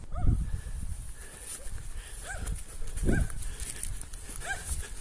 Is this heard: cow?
yes